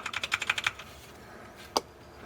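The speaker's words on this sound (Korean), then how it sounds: "이 갈축의 소리는 이런 식의, 이런 타이핑 소리가 납니다" A quick burst of about seven crisp key clicks on a Keychron K6 aluminum mechanical keyboard with brown optical switches, then a pause and one louder single keystroke, close up with no talking.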